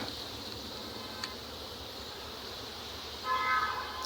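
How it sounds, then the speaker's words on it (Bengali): Honeybees fly around honey farm hive boxes in a mustard-flower apiary, making a faint, steady buzzing hum with a slightly louder swell near the end and no speech. "দেখেন মৌমাছিগুলো উঠতেছে এলোমেলোভাবে।"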